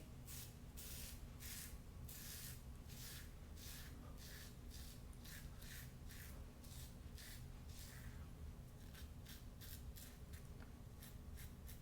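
A Merkur 34 stainless steel safety razor scrapes across the grain in quick, raspy strokes with a steady rhythm. Each stroke is short and close, and a constant background hiss runs underneath. No one speaks.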